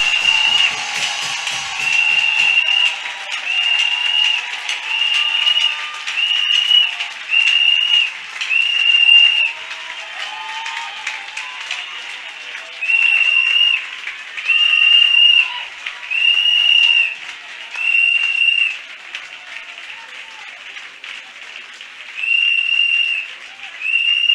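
A church congregation applauds in sustained, rippling clapping that runs throughout, overlaid by repeated high, whistle-like held tones rising and falling in bursts.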